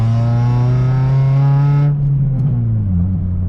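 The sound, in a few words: car engine revving before shifting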